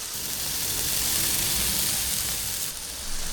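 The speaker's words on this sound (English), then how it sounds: "we're just going to let these burgers sear and cook for just a minute" Burgers searing on a Blackstone griddle give a steady, even sizzle and hiss that runs unbroken and fairly quiet, with a slight dip near the end.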